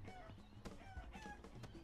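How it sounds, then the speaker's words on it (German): Chickens cluck in a school-themed video game, a dense run of short clucks and crowing-like calls over a steady game background, moderately loud and continuous with no talk. "Ich höre hier so Boxen und dann höre ich noch die ganze Zeit so Hühnergeräusche"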